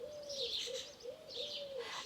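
Soft, repeated dove-like coos come from a bird at a distance, a few even calls in a row over a faint background hiss.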